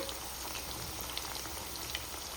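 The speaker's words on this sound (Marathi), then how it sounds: "आणि आता मस्त असं खुसखुशीत तळून घ्यायच्यात हे उरलेले सगळे पीस" Chicken 65 pieces deep-frying in a kadhai over a high gas flame, a faint, even bubbling hiss with scattered tiny pops, no talking.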